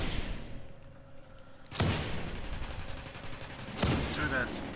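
Enemy weapons firing in the Dragon's Nest video game, with two distinct sharp blasts and a rattling noise bed underneath, and voices talking quietly between the shots.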